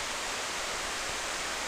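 River water rushes through a forest near the Curug Cikaro waterfall, a steady, dense hiss at even loudness from start to finish, with no voices.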